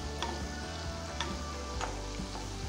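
Malpua frying in hot oil in a pan, with a constant close sizzle and a few sharp crackles and pops breaking through at irregular moments.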